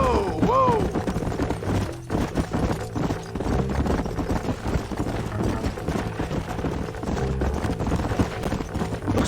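Horses galloping in the western video game Red Dead Redemption, with steady, rhythmic hoofbeats running through a dense, busy game soundscape and no talking.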